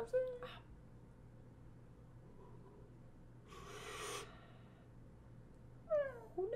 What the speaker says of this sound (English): Who let the cat in here?